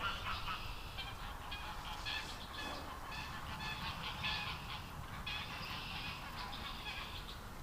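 Several geese honk in a noisy, overlapping chorus at moderate distance, calls repeating irregularly over a steady low background rumble.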